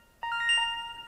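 Short chime from a Minut Point alarm push notification on a phone: a few quick rising electronic tones ringing out cleanly over a quiet room, lasting under a second.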